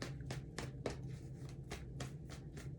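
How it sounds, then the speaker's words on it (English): Tarot cards being shuffled by hand during a reading, giving a series of soft, close riffling bursts roughly every third of a second over a steady low hum. "2 more shuffles and then I'll pull."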